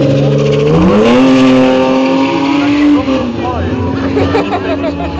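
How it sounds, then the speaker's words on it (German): A passenger car carrying four women on board accelerates hard away from a start line at an outdoor driving event, the engine note climbing steadily and loudly, with crowd chatter and an announcer's voice over it. "Und da startet er durch, unser Cheffahrer."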